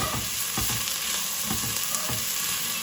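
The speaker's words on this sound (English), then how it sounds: "I'm going to saute it all around. I put some olive oil in the pan to get this started." Sausage and onions sizzle steadily in olive oil in a pan, a constant close frying hiss with occasional stirring scrapes and soft clatters, no voices.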